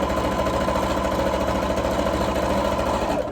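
A sewing machine stitching a drawstring bag gives a steady, close motor hum with a fast, even rhythm. It runs unbroken for about three seconds and then eases off at the very end.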